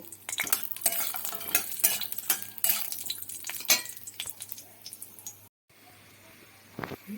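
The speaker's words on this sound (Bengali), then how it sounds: "আমি এক চামচ মতো তেল দিয়েছি এতে আমি বড়িগুলো ভেজে নেব খুব কম তেলেই এই রান্না করব" Lentil dumplings (bori) fry in a spoonful of oil in a hot wok, with a soft sizzle under repeated scrapes and knocks of a spatula against the pan, a brief silent gap, then a few more stirring clatters.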